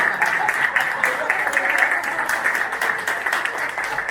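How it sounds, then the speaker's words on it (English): Audience at a corporate storytelling talk applauding loudly and steadily, a dense wash of many hands clapping at close range that keeps up without a break. "Give yourselves a massive round of applause."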